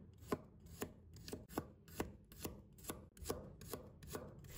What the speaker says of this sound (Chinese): 再准备1把大蒜，给它切成片